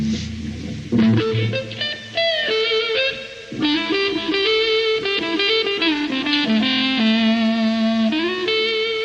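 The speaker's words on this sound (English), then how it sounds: "a kind of whining noise, usually described as woman tone" An electric guitar with a dark, whining, rounded "woman tone" plays a bluesy lead phrase of sustained bent notes, loud and alone.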